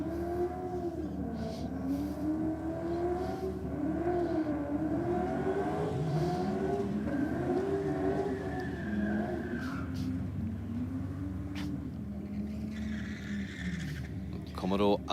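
A Commodore and a BMW race car run a drag race, engines rising and falling in pitch as they rev and accelerate down the strip, heard under continuous commentary.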